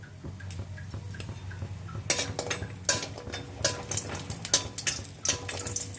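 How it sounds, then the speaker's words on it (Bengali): Lentil dumplings (bori) dropped into hot oil in a kadai give a close sizzle that swells after a couple of seconds into bursts of crackling and spattering, with light clinks of a utensil. "তেল গরম হয়ে গেলে বড়িগুলো দিয়ে দিচ্ছি"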